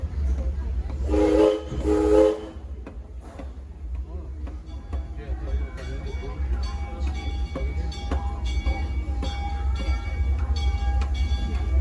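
On the Six Flags Over Texas Railroad at the theme park, a loud train whistle blows briefly in two close blasts, then a low engine rumble, clanking and hissing carry on beneath.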